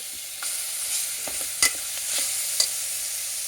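Ginger garlic paste frying in a pan, a soft continuous sizzle broken by a few sharp scrapes and clinks of a spoon stirring, close and with no talk.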